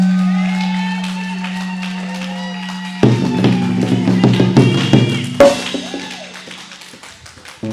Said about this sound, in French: Est-ce qu'on peut donner un tonnerre d'acclamation à Jésus?